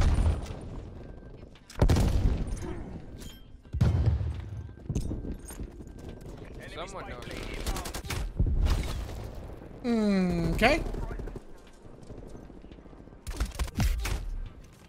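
Horse hooves clip-clop in the Black Ops Cold War game amid bursts of gunfire and other game effects, the hoof steps mid-level and uneven; a player speaks briefly over the mix.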